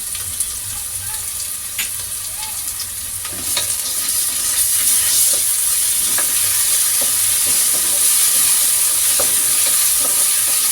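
Onion with ginger-garlic paste frying in oil, being stirred in a pan for fenugreek-leaf pulao, with a constant bright sizzle, occasional scrapes and clicks, and a louder sizzle after a few seconds.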